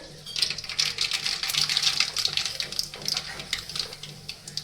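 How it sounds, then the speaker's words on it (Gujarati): Mustard seeds dropped into hot oil in a kadai, a close, crackling sizzle with rapid irregular pops and spits that rise and fall for several seconds. "તેલ ગરમ થાય એટલે સૌથી પહેલા આપણે તેમાં રાઈ એડ કરી દઈશું"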